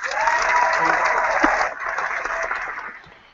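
Applause with crowd cheering rises steadily and stays loud for about three seconds, dipping briefly in the middle before it fades out at the end.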